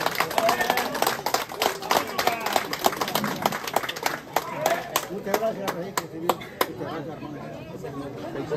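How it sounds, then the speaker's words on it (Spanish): Wedding guests at a civil ceremony clap for the bride and groom, with dense sustained applause and sharp individual claps over steady crowd chatter, easing off toward the end. "Fuerte los aplausos para los novios, fuerte las palmitas y esos aplausos a ver que se escuchen"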